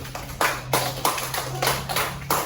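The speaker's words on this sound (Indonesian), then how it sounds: "ayo kasih tepuk tangan untuk kelompok Nasti" Schoolchildren in a primary classroom clap together for a group, about seven distinct rhythmic bursts of hands in a steady beat, fairly close, over a low steady hum.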